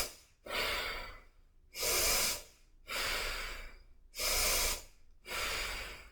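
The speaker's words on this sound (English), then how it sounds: "yogic breathing is just big breaths in," Yogic breathing, five big deep breaths drawn in and pushed out in an even rhythm, each a loud close breathy rush separated by short pauses, with no voice over them.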